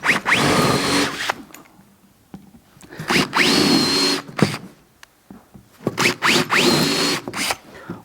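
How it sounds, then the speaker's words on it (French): A power drill boring holes with a bit, in several short bursts that each spin up with a rising whine and then stop, loud and close, with pauses of quiet between them. "je prends ma mèche et je vais venir percer"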